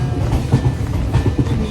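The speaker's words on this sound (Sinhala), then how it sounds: "මාරි ස්පීඩ් එක යන කෝච්චිය." A fast passenger train runs along the rails, giving a steady loud rumble with rhythmic clickety-clack of the wheels, heard from on board without talk.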